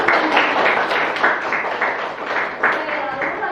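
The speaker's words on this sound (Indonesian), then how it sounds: "Tepuk tangan." Classroom applause during a junior high civics microteaching lesson: a loud, steady patter of many hands clapping together for a few seconds, with dense, slightly pulsing claps and no clear pauses.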